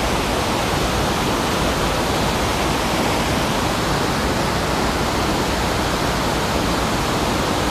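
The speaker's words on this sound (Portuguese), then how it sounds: "Tô com fone de ouvido por causa da cachoeira, que faz muito barulho." A waterfall roars in a dense, unbroken wash of close, loud noise that holds steady throughout, with no voices.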